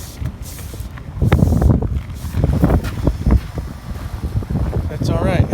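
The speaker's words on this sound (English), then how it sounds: "It's really windy up here today." Strong gusts buffet the microphone on a rooftop during an air conditioning service call, loud rumbling wind noise swelling and easing throughout, with a person's voice briefly present amid the roar.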